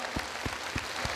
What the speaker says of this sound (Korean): 주님께 우리 감사의 박수드리죠.